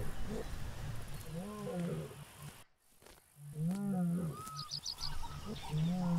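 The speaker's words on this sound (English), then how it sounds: "I hear lions." Lions roaring in a wildebeest wildlife video game, deep rumbling roars repeating several times close by, with faint bird chirps in the background and a brief dropout in the middle.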